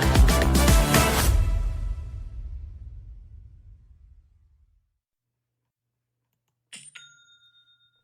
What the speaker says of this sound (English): That's the sound of another sale or another dollar hitting your Shopify e-commerce store.